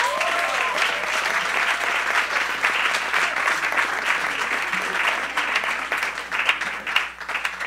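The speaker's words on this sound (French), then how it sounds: "faites une belle main d'applaudissements" Audience applause at a French-language song program as a young performer is introduced, steady dense clapping filling the room from start to finish with a faint whistle near the beginning.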